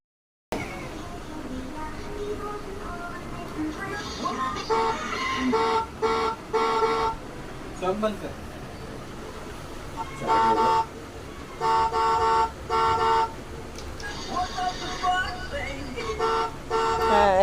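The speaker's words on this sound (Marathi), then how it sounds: "इथे दक्ष आला आहे ग्रितिकची गाडी घेऊन" A vehicle arrives at a home and its horn toots in repeated short bursts and clusters, loud and near, over a running motor and people talking.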